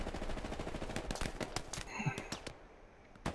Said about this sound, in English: I think that was a tank.